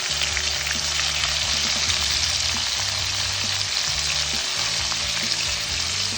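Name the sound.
hilsa fish frying in oil with bay leaves and cumin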